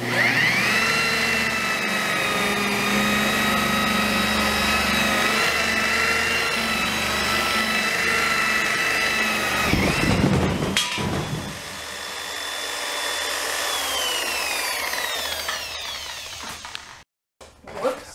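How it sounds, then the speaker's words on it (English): Power buffer working on the hull of a canoe, a steady loud motor whir with a gritty pad-on-surface rasp, interrupted near the end by a thump and a brief drop before the whine resumes. "now we'll start buffing."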